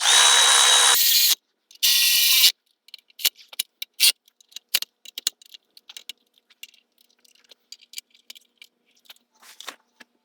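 A ratchet clicks in quick bursts while tightening the rear differential mount bolts on a 2015 Toyota Sienna 3.5 V6 AWD, followed by scattered metallic taps and clinks of tools being handled.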